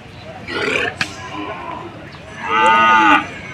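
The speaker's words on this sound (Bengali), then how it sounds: "বেশ চমৎকার একটা ফ্রিজিয়াম ষাঁড়" A Friesian bull at a Haluaghat cattle market gives two loud, close moos, a short low call and then a longer drawn-out bellow, over market background noise.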